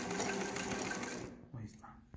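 A domestic sewing machine stitches a manual buttonhole bar, running in a steady close whir that stops partway, followed by a few soft mechanical clicks and handling sounds.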